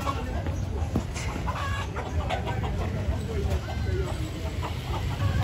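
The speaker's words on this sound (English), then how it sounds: "You got a chicken." A live chicken at a Kenyan street food stall clucks several times in short bursts over a busy background of crowd chatter and voices.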